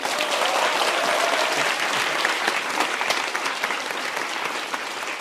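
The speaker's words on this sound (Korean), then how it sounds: "박수 한 번 주십시오." Lecture audience in a Korean talk hall giving steady, dense applause, a continuous even wash of many hands clapping at moderate distance for several seconds.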